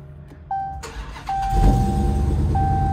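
A car engine cranks and starts up indoors, a Dodge Demon sitting among a Chevy Malibu bought at auction, with chimes ringing before the engine catches and settles into a loud, steady rumble.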